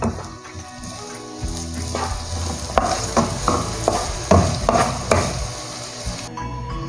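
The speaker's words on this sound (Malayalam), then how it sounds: "നമ്മൾ അരിഞ്ഞു വെച്ചിരിക്കുന്ന പച്ചമുളക് ഇഞ്ചി അതുപോലെ കറിവേപ്പില ഇതൊക്കെ ഇട്ടിട്ട് ഇതിൻ്റെ കൂടെ ഒന്ന് നന്നായിട്ട് വഴറ്റിയെടുക്കാം" Shallots, green chillies, ginger and curry leaves being sautéed in a pan for a prawn, drumstick and coconut curry, with a steady loud sizzle and repeated scraping stirs of a spoon against the pan.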